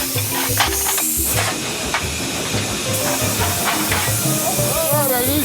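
A steam locomotive hisses with continuous steam under rhythmic chuffing and rumbling machinery, loud and close throughout.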